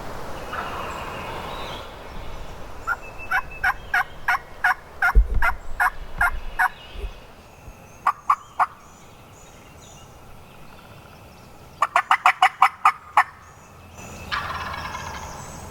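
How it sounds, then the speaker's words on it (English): Wild turkey gobbler gobbling in a South Carolina national forest, several rattling gobble bursts from a distance, separated by quiet pauses, with no talk. "a gobbler fired off somewhere above me"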